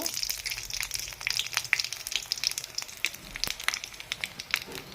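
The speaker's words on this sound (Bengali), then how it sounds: "আর একটু কড়াইয়ে তেল দিয়ে দিচ্ছি শুকনো লঙ্কা তেজপাতা পাঁচফোড়ন সব মোড়া দিব" Dry red chilli, bay leaf and five-spice seeds fry in hot oil in a kadai, giving a close, busy sizzle with sharp pops and crackles and no talk.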